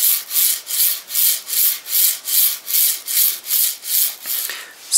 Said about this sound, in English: And this is the Hiwin noise.